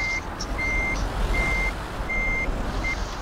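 Truck reversing alarm in Euro Truck Simulator, a steady series of about five evenly spaced electronic beeps over a low engine rumble, loud and without talk.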